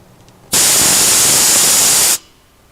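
Compressed air blasts out of the safety valve on the tank of a gas-powered air compressor, one loud, steady hiss of about a second and a half that starts and stops abruptly.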